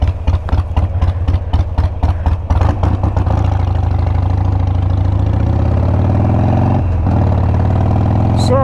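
A Harley-Davidson Street Glide motorcycle engine, one with a throttle fault, runs loud and close, a choppy lumpy idle for the first few seconds that smooths into a steady rumble with a brief dip near the end.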